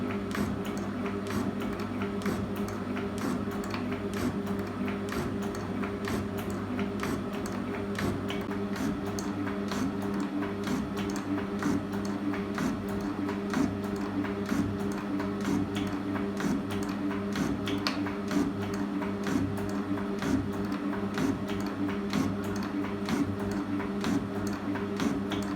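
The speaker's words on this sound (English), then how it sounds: "the machine is operating without making a great deal of noise, which means it's working well." A 1958 Butler shaper table lift with its original Bush electric motor runs steadily and fairly quietly, a constant low motor hum with faint ticking throughout, no voices.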